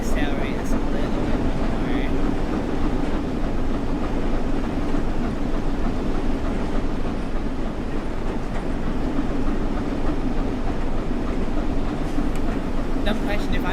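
A train in the Train Sim World 6 game rumbles steadily under power, a continuous dense low drone and rolling noise with little change, heard alone throughout.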